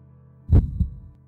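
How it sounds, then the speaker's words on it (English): A heartbeat thumps in the indie horror video game Last Neighbor, one heavy close beat followed quickly by a softer second beat, then a low hum fading out. "Why is the heartbeat like this?"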